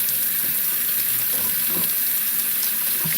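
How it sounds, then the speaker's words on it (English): Water poured from a container into a home fish tank, a steady splashing trickle with a faint bubbling wash that runs close and continuous for a few seconds, with no voices. "I tip the water into the fish tank because it's got"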